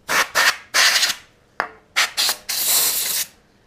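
Logitech G27 racing pedals blown out with short bursts of compressed air: several sharp hissing blasts of varying length, loud and close, ending in one longer sustained spray, with no voices.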